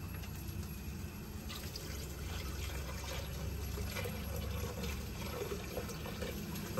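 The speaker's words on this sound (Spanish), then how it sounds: "vamos a echarle más agua" Water pours steadily into a pot while atol chuco is made from scratch, giving a faint, continuous splashing trickle over low background noise.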